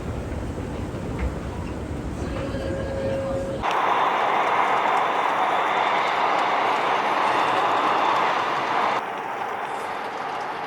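A regular all-stop subway train bound for Incheon International Airport rumbles along steadily, its rushing roar swelling louder and brighter through the middle before easing back to a duller drone.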